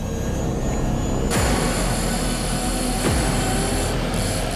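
A steady, loud roar of a helicopter engine flying over the Fraser River, continuous whine and rotor noise, close by and unbroken throughout.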